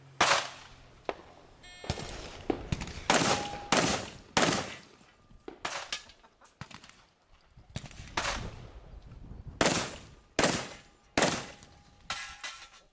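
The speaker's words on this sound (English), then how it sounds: "Damn, this thing holds 6 shots." A Remington 1100 semi-automatic shotgun fires a long string of loud, sharp blasts outdoors at a range, coming in quick bursts with short pauses between groups and no talk.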